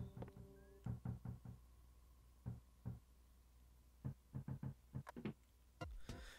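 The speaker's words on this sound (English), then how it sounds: "Someone's knocking. Open it then." Knocking on a door in the SNES game Earthbound, several bursts of quick muffled knocks in twos and threes, quiet and repeated over a soft background hum.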